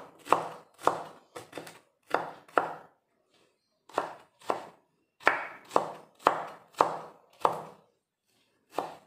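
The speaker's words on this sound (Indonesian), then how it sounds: "Pertama-tama saya akan mencincang bawang bombay ya Bunda. Ini diiris-iris dulu ya." A knife slices an onion on a cutting board, giving soft, close, fairly even cuts in uneven groups with brief pauses between strokes.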